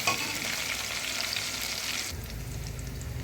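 Onion and whole spices, including star anise, frying in hot oil for a cauliflower soup, a dense bright sizzle that drops suddenly near the end to a quieter low rumble, close and without talk.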